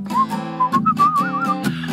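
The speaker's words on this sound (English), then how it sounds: "just purse your lips and whistle, that's the thing" A person whistles a melody, a clear wavering tune over a steady accompaniment that keeps going after the whistling stops.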